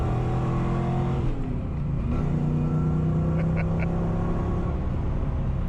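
A Saleen Foxbody Mustang's 200-horsepower engine drones loudly from inside the car, its deep rumble rising and falling in pitch as revs climb and ease through the run.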